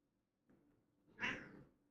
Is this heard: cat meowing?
yes